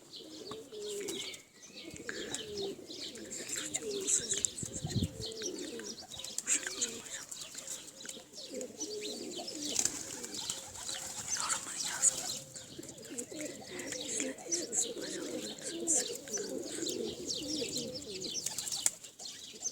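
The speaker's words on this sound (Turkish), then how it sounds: "Dönek yeni yakaladığımızda ötüyor." Tumbler pigeons coo in soft, repeated low warbles close by outdoors, mixed with occasional chirps and brief wing flutters, with no one talking.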